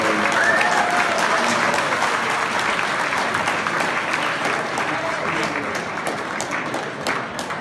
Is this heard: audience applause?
yes